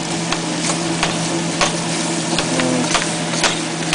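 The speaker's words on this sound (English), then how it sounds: "I'll go ahead and give that a stir and get those all incorporated into the roux" A spoon stirs onions into a cooking roux for chicken etouffee in a pot, steady sizzling under a low hum with soft scraping taps against the pot at irregular intervals.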